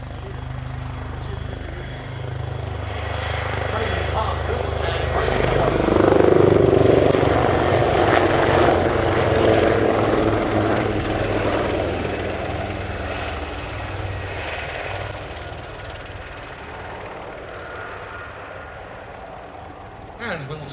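Royal Navy Wildcat HMA.2 helicopters in a flying display at an air show, their rotor and engine roar swelling to a loud peak overhead then slowly fading, with a commentator's voice running underneath.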